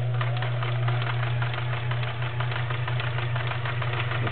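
A vintage Kenmore 1525 convertible sewing machine runs a stretch stitch with a loud, continuous motor hum and fast, even mechanical chatter of the needle.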